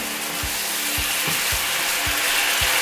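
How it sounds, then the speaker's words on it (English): Tocino stir-fries in a frying pan as the water boils off, with a steady broadband sizzle and a spatula scraping the pan bottom in five evenly spaced low thuds, close and alone. "when I scrape this you can see the bottom of your frying pan"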